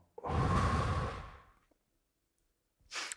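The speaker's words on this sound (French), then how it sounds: "une respiration" A person takes a deep, long breath, audible as a loud close rushing exhale lasting over a second, followed by silence and then the start of another breath.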